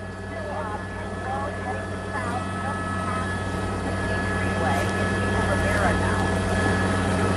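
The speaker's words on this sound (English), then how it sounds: "there are so many helicopters above him" Several police helicopters hover above a Los Angeles car chase after a robbery suspect, their rotors making a continuous, rumbling drone that swells slightly toward the end while someone talks over it.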